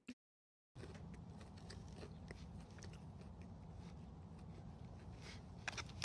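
Crunchy battered fish is bitten and chewed up close, with a few sharp crunches at the start and end over a steady low background hum.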